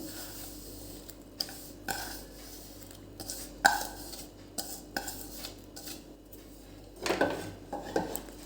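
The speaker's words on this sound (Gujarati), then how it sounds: "આવી રીતે વિલણથી એકદમ હલાઈ કાઢવાનું" Slow stirring of flour and buttermilk in a pot over a low flame, with scattered soft knocks and scrapes of a wooden stirrer against the sides, quiet and irregular, no voices.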